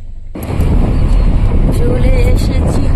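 Car travelling along a highway, heard from inside as a steady broadband road and wind rumble that starts abruptly and continues loud and unbroken, with faint tonal whines over the drone.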